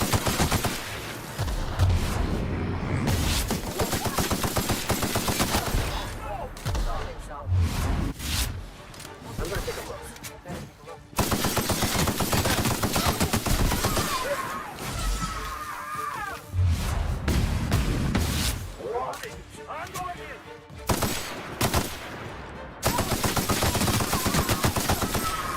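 Rapid gunfire from The Outer Worlds video game rattles in long automatic bursts with brief pauses between volleys, loud and close, with a voice talking intermittently over the shooting.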